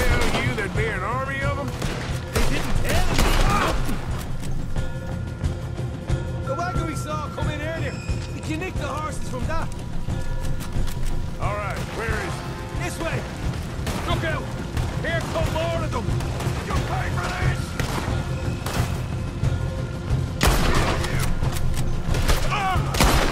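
Gunfire in the game Red Dead Redemption 2 as fields burn: repeated loud shots and volleys cracking throughout, some clustered in bursts, with someone talking over the din.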